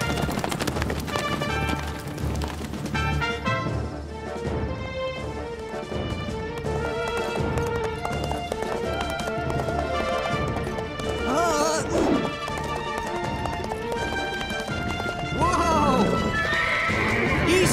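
Cartoon horse galloping in quick clip-clop beats, with sharp whinnies and neighs breaking through a busy music score, dialogue and shouting mixed in.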